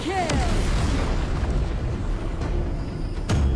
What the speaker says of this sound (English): Your team has destroyed a tower.